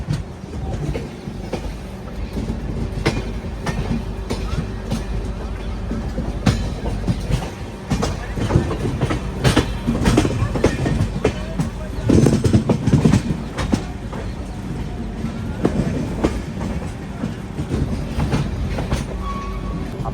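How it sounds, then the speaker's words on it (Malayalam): A passenger train travels from Gwalior toward Morena with a steady, loud rumble and rhythmic wheel clatter on the rails. Occasional sharper knocks come through for the whole stretch, with no talking. "അങ്ങനെ നമ്മൾ ഗോളിയോറിൽ നിന്ന് നമ്മളെ ട്രെയിൻ എടുത്തു"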